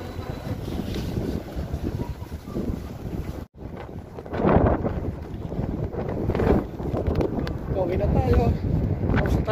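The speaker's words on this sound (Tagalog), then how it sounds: "Medyo malakas yung hangin dito" Strong wind buffets a microphone outdoors in Calgary, producing a loud, continuous low roar that surges and dips in gusts, with a brief dropout partway through.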